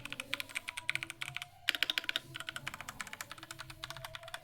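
Rapid, steady typing on an Evofox Ronin TKL wireless mechanical keyboard, with crisp clicky keystrokes in quick succession and one brief pause, heard close up with no talking.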